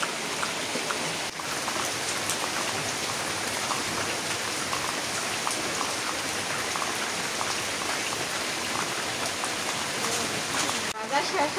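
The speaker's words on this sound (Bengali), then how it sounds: "বৃষ্টি একদম করতেছে" Heavy rain pours down steadily, a dense, unbroken close hiss of drops on surfaces that stays constant throughout.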